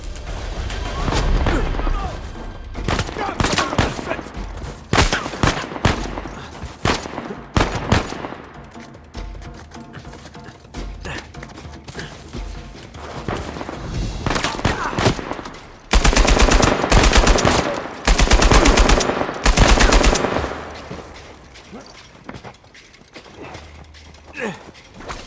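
Sniper and automatic gunfire in Uncharted 4 among Scottish ruins: dense, loud bursts of shots and crackling volleys that come in waves, with heavier clusters near the end and shouting voices mixed in.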